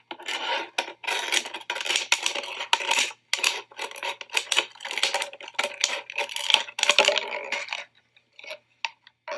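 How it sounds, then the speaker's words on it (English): Scissors snip and rasp around a plastic water bottle in a rapid series of scratchy crunching cuts, close and fairly loud, with brief pauses between strokes and no voices. "we can fit our scissors in and cut all the way around the water bottle until we have two pieces"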